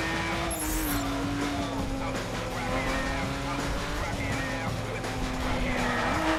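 A car drives in the racing video game The Crew. The engine holds a steady, loud drone with slight pitch shifts and a faint tire hiss throughout.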